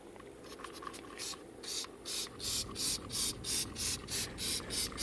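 A spray bottle hisses in quick, evenly spaced bursts, about a dozen pumps in a steady rhythm, close by, spraying liquid cleaner onto the outside of a radiator.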